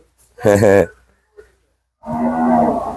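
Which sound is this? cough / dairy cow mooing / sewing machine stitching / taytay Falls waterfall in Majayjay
dairy cow mooing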